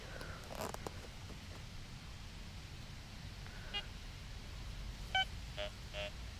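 A metal detector sounds over a dug-out clump of soil in the ground: several short electronic beeps and tones, some doubled, standing clearly above a quiet outdoor background.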